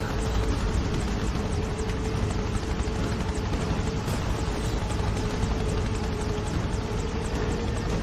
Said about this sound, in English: hitting Alex Mercer's helicopter, I find that a bit dangerous